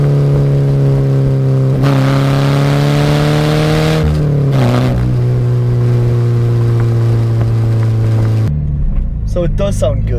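Subaru BRZ engine with an exhaust silencer fitted, revving up and holding a steady, droning note that dips once, then cuts off abruptly, with a voice talking over it.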